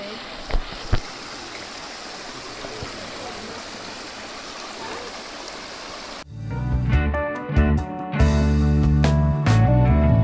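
Flowing river water in a Costa Rican jungle, a steady broad wash for the first six seconds before louder, brighter sounds take over, with a couple of brief knocks near the start.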